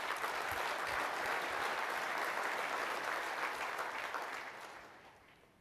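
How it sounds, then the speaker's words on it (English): An audience at a conference opening applauds the sponsors, a dense, even wash of clapping heard from a little distance, steady for several seconds before tapering off toward the end. "So a round of applause for all of our sponsors"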